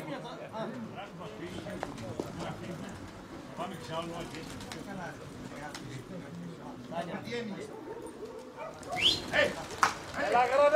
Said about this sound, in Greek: Αυτά εκεί είναι τα πουλιά του Σάκη